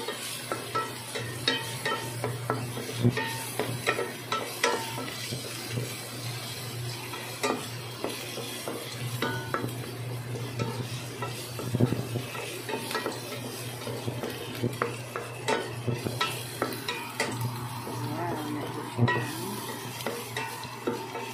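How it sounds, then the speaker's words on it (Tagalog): Garlic, onion and ground pork sautéing in a pan, with a steady sizzle of frying under repeated stirring and scraping of a utensil against the metal, continuous and fairly close, no talking. "Ayan, ginisa kong mabuti yung bawang at sibuyas."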